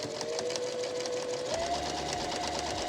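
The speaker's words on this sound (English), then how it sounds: "I'm using my presser foot so I can do a top stitch on the bottom line." A sewing machine runs steadily as it top stitches the bottom line of a pillowcase shirt with the presser foot, giving a continuous close whirring hum that shifts slightly in pitch partway through.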